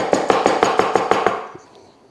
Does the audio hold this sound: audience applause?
no